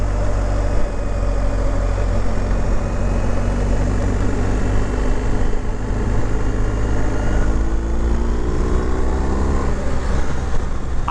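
BMW R1250 GS Adventure motorcycle, 1250 boxer engine, running steadily while riding, a loud continuous low-pitched drone with slight rises in engine pitch and constant wind rush, no voices.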